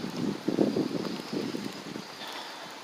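Wind gusts outdoors on a rainy night buffet the microphone with a low, uneven rumble that rises and falls for a few seconds, then eases to a faint hiss.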